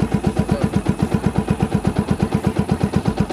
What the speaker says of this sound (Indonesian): Pompa.